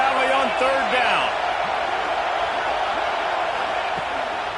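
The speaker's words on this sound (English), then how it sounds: "Here comes the noise from this big crowd in Happy Valley on third down." Big crowd noise at Penn State's Happy Valley during a college football game on third down, a broad, sustained roar under a voice speaking.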